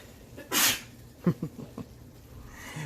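A single loud, sharp sneeze up close, followed by a few short sniffs and breaths.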